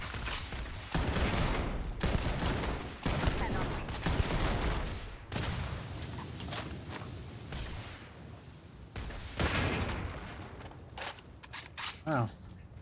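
A gun firing in Starfield, with loud repeated shots in quick bursts and short pauses between them, fading slightly toward the end.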